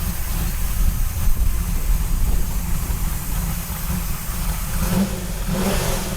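A Ford Mustang GT500 muscle car engine revs and rumbles, a deep steady roar with rising pushes, heard alone at moderate loudness.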